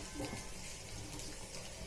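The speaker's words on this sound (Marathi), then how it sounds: "नंतर यात टाकूया आपण" Water poured into a pan of potatoes frying in masala, a short steady rushing pour heard close over the frying, lasting about two seconds.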